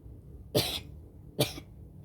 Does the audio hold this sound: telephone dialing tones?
no